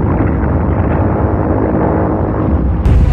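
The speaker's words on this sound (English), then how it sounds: "Manila has just been bombed. In fact, right now it is being bombed." Bombs explode in a dramatized radio account of an air raid on Manila, a dense, loud, continuous rumbling roar that fills the whole stretch, with a brighter burst near the end.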